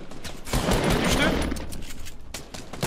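Bursts of automatic gunfire from a Fortnite tournament match, loud and near, rattling steadily through most of the stretch with people talking excitedly over it.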